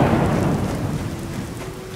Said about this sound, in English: on Solstheim and in the Dragonborn DLC, where it is raining.